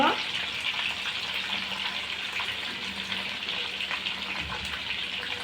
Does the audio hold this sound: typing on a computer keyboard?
no